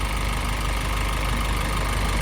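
The 5.2 liter Isuzu 4HK1 TC four-cylinder turbo diesel in a 2006 Isuzu NPR cab-over box truck idles with a steady, loud, even rumble and no voices.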